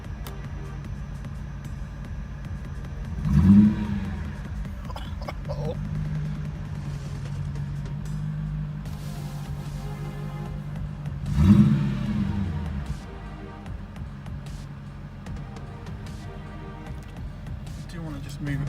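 A budget luxury car with a loud quad exhaust revs twice, each sharp rising roar well apart over a steady rumbling idle, while people talk nearby.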